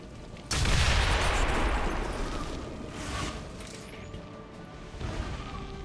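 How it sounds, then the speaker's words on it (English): An explosion in the video game XCOM 2 erupts with a sudden loud boom and crackling debris that fades slowly, followed by a softer second burst. "Make some explosions."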